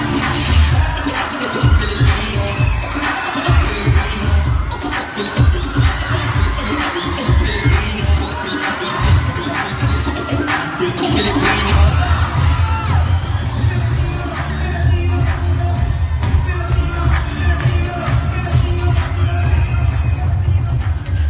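Crowd shouting and cheering at a pop dance contest at a local neighborhood event, a dense continuous roar of voices with whoops and bangs throughout, loud and close.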